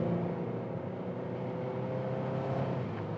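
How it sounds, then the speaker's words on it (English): A 2016 Renault Megane GT engine hums steadily while driving, a low continuous drone with road noise and no voices. "Oh, engine sound is also quite reasonable."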